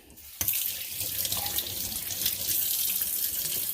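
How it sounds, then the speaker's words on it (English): Water from a tap splashes and runs steadily onto a piece of agatized coral, starting abruptly and continuing as a close, hissing flow. "if you turn the water on it"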